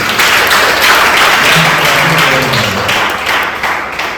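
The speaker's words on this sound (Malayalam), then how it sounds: "കുഞ്ഞിന് നല്ലൊരു കൈയടി കൊടുക്കാം." Audience applause for a child at a youth and kids fellowship gathering, a steady wash of many hands clapping that stays loud throughout and eases slightly toward the end.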